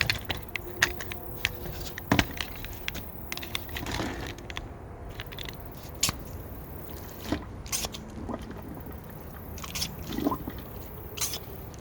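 Fluid being sucked through a hose and drained into a container during engine removal on a Husqvarna zero-turn mower: wet gurgling, slurping and dripping with scattered clicks and squishes, close up and without talk.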